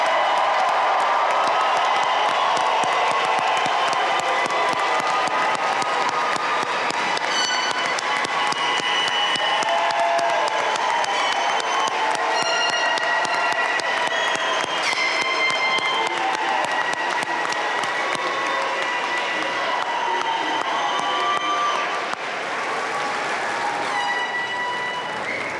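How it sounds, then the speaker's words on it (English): Long, lively applause rolls from a large crowd at a May 2019 undergraduate commencement for the graduating class of 2019, with whoops, cheers and chatter rising throughout. "Let's have a final applause for the class of"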